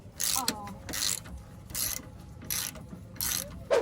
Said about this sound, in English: Just remove these two 15mm bolts from this lower part of the shock that connects it to the lower control arm